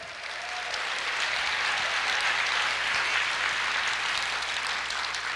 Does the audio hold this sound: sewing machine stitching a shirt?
no